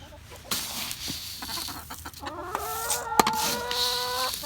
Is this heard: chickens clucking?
yes